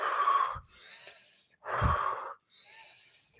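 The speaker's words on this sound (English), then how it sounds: "Inhale, exhale, like inhale." Two big, deep breaths, each a loud rushing inhale followed by a softer, longer exhale, close up and alone in a slow, even rhythm.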